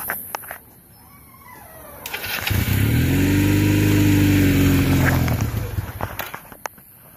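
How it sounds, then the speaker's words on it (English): Honda Rebel motorcycle engine starting and running after a carburetor cleaning, rising from quiet to a loud, steady mid-pitched idle with harmonic drone, then fading back, heard close up without talk. "Continue to let the carburetor clear out, but she runs."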